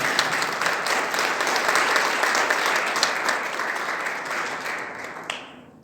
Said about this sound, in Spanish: Den un aplauso fuerte a nuestro Señor.